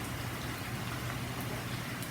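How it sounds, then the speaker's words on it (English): Steady rain falling outside a home, a dense continuous hiss of drops on surfaces, fairly loud and unbroken with no voices. "Yeah, it is raining."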